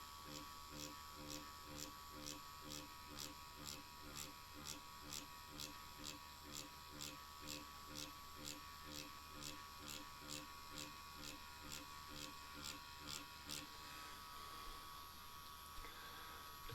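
Dragonhawk X3 tattoo machine running at 5.5 volts, a steady close electric buzz with a rapid pulsing rhythm that holds nearly unchanged throughout, loud and continuous with no talking over it.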